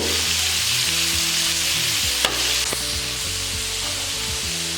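Onions and chillies frying in a pan with salt give a loud, continuous sizzle, close up, with a couple of brief scrapes from stirring and no voices.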